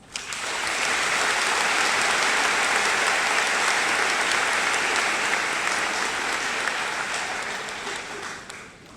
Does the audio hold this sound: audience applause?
yes